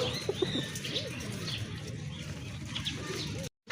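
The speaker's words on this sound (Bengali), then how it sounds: "এখানে কিন্তু এক জোড়া রাজগোল্লা কবুতর রয়েছে দেখতে পাচ্ছেন আপনারা" A pair of Rajgolla pigeons offered for sale give soft repeated coos with brief flutters of wings, close but quiet over a hushed room, ending in a sudden cut to silence.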